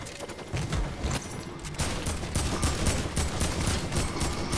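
Rapid gunfire crackles in a Fortnite match, a steady run of closely spaced shots with a brief lull early on, loud and continuous to the end.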